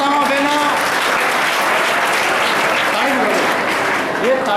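Crowd at an environmental awareness rally in Jaswantgarh breaks into sustained applause, a loud continuous wash of clapping with a voice speaking over it through a PA.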